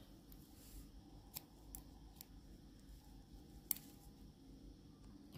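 Scissors snip off excess yarn on a handmade crochet amigurumi bee, a few sharp separate clicks spread out over quiet, with one crisper snip standing out near the end.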